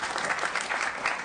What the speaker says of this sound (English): Big round of applause for Sandre Swanson